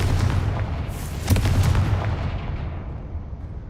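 A Confringo fire spell explodes in the game Hogwarts Legacy, a dense, rumbling blast with a sharper burst in the middle that slowly fades into a low roar, close and loud with no voices.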